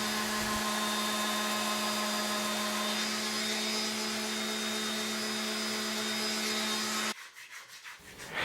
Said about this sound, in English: I won't hesitate to grab my little 5-inch random orbital sander with some 80 grit sandpaper disc and sand that down as smooth as possible